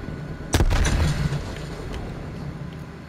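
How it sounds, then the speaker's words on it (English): A frag grenade blows up in Call of Duty Black Ops Cold War with one sharp, loud blast, followed by a rumbling tail that fades slowly into the game's background noise. "Throwing grenade."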